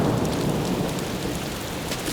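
A thunderstorm pours steady, dense rain with a low rumble underneath, a continuous broad hiss that stays even throughout.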